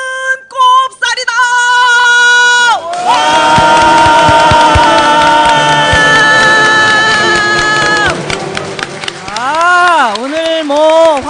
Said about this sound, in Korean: 오늘 환호성이 대단합니다.